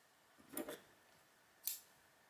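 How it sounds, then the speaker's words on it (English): Scissors snip through a long strand of blue crochet yarn with two quiet, close cuts about a second apart in an otherwise silent room. "So I'm just going to cut a long strand."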